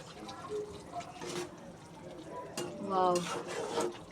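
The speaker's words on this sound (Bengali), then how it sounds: "এখন আম্মু আবার নেড়ে দেবে হাত করে নিচ থেকে" Potato and dried kachki fish curry is turned by hand in a pan, soft wet stirring and scraping with a few clinks of utensils against metal, close and moderately quiet, building slightly toward the end.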